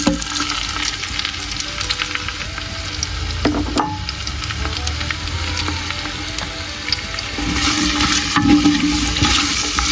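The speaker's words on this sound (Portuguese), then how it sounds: "Aqui tem a cebola roxa e o alho que eu estou refogando" Red onion and garlic sizzle steadily in a pan over a wood-fired stove, a continuous close frying hiss with occasional stirring clinks and no talking.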